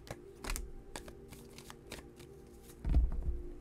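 A deck of tarot cards is shuffled close up, with a series of quick riffling flutters and soft taps spread over a few seconds, quiet and with no one speaking.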